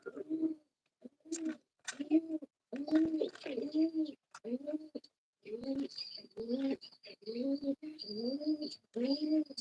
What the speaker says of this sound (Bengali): তো পায়রাগুলো চলে এসছে আমার খাচ্ছে